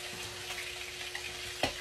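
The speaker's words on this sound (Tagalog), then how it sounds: "Narinig niyo ba yung tunog ng prito? Nagpiprito na kasi ako." Food frying in hot oil in a pan gives a quiet, continuous sizzle with crackling pops, one sharper spit of oil near the end.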